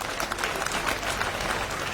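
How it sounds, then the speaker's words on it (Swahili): Dense audience applause fills a Kenyatta University hall at a speech, a steady broad wash of many hands clapping throughout, fairly loud and continuous with no break. "Mujipigia makofi."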